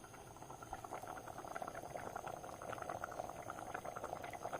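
Mushroom curry simmering in a pot, with a steady bubbling and gurgling boil that holds at an even, fairly quiet level throughout, alone with no voices.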